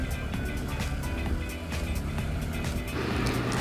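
Cars and motorbikes passing at night on the Bitukang Manok mountain road in Atimonan, Quezon, a steady loud engine and road rumble with traffic sweeping by close and continuous.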